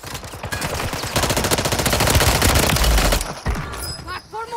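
Rapid automatic gunfire in the shooter game Call of Duty Warzone on the Vondel Resurgence map, a sustained dense burst of shots lasting about three seconds, loud and close, followed by scattered quieter game effects.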